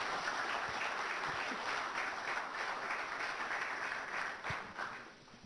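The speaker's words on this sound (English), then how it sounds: "Please, a round of applause for Mr. Kimati Kwenye." An audience at a speaker series event gives a round of applause for a keynote speaker, sustained dense clapping that stays steady and then tapers off near the end.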